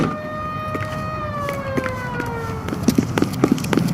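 A police car siren in the video game L.A. Noire wails and sweeps downward in pitch, then fades as a series of sharp thumps and taps takes over.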